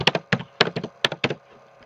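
Quick bursts of clicking keys on a computer keyboard, several short clusters of taps close by and fairly quiet, then trailing off into near silence.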